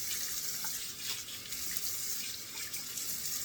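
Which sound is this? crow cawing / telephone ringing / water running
water running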